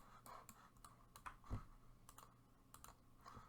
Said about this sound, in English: we'll press L, go G on the keyboard